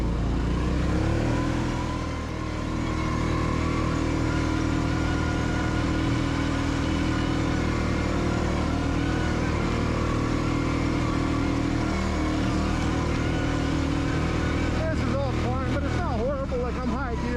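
An ATV climbing a slope in high gear and four-wheel drive at roughly half throttle, around 25 mph, in the Crowsnest Pass outdoors; a steady, loud engine drone runs throughout with some voices and rustling late on.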